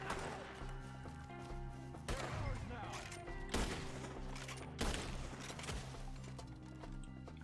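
Gunfire in Red Dead Redemption crackles in a few sharp, spaced volleys over a low background bed, fairly quiet overall, with a voice talking between the shots.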